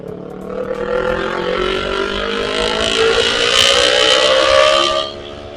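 A Kawasaki Ninja FI motorcycle passes on a road, its engine tone climbing steadily and growing louder to a peak, then dropping away sharply as it goes by.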